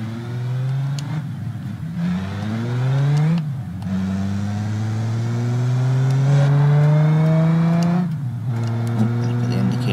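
A car in the driving game BeamNG.Drive pulls away and accelerates, its engine tone climbing through several gears with brief drops at each shift, loud and close, with no talk.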